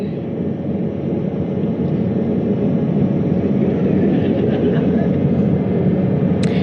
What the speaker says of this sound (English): we have 2 helicopters circling the activity you're seeing on the water right now.